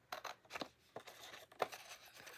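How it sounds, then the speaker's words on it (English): All-purpose scissors trimming overhanging paper in a scrapbook layout, a series of faint, crisp snips and rustles spaced irregularly, close by in a quiet room. "I'm going to take my all-purpose scissors now, and I'm going to cut off that overhang."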